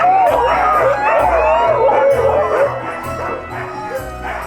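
Sled dogs in cages near Rovaniemi, Finland, barking and yipping excitedly in a loud, dense chorus, with overlapping barks and whines close by.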